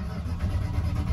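A first-generation Dodge truck engine running right after starting, a steady low rumble that stays close and fairly loud throughout with no voices over it.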